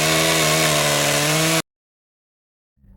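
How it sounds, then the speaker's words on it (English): A loud, buzzing chainsaw motor drone runs steadily, then cuts off abruptly into silence before a faint low rumble returns. "a chainsaw"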